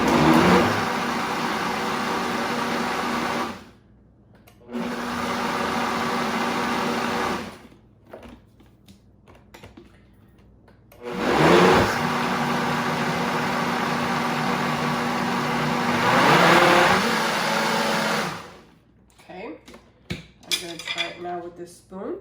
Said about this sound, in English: And I'm going to blend it again.